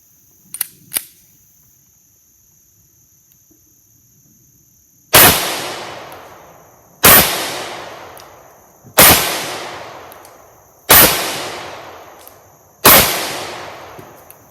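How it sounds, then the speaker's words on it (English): Five sharp, loud gunshots from a Palmetto State Armory 5.7 Rock pistol ring out at evenly spaced intervals of about two seconds, each followed by a short decaying echo, after a couple of faint clicks. "We're going to go ahead and take 5 shots"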